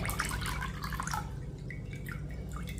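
Water drips and trickles steadily from soaked ragi grains draining in a sieve, a close, soft patter of drops with a faint low background hum.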